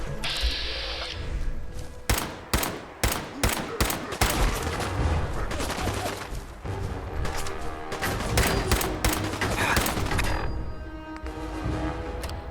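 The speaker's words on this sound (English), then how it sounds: "let's go and kill whatever is making those gunshots" Gunfire in Fallout 4 rattles in rapid bursts and single cracks, loud and dense over a steady background, with no talking.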